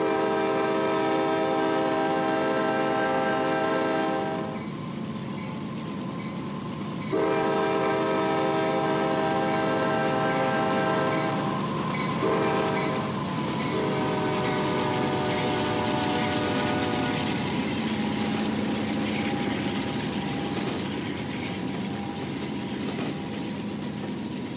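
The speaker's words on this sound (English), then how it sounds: "Enjoy the gorgeous K5HL horn as the train rumbles through town." A CSX heavy manifest freight train rumbles through town, its K5HL locomotive horn sounding in long, loud sustained blasts that cut off and resume, over steady rolling rail noise with no talk.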